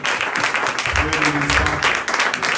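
A church congregation breaks into sustained applause, a dense, close patter of many hands clapping at an even level throughout, with some voices mixed in.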